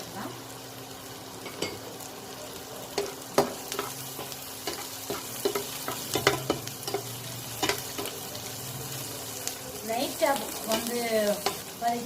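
Dried red chilies and cumin sautéing in a pan, with a steady soft sizzle under scattered scrapes and stirring clicks from a spoon, fairly close, with a brief spoken word near the end.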